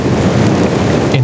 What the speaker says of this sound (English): you hear the thunder in the background